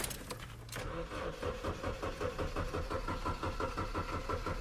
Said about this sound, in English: Go to start my car up.